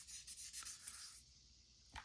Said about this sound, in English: I'm just doing real light pressure. I mean, this is color sanding